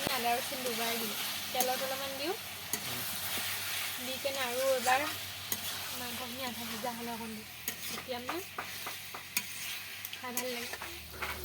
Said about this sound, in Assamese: আকৌ মাংসখিনি ভাজি লোৱা হ'ল